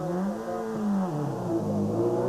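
A production-class rally car with a serious misfire pulls away from a stage start at a 2008 rally championship event. The engine's revs climb, dip and climb again in a brief, fairly close burst.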